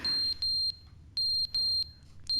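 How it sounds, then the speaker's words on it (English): Fire alarm in The Stanley Parable sounding in repeated high-pitched electronic beeps, each a short steady tone separated by brief gaps, loud and clear with no talk over it. "There's a fire alarm."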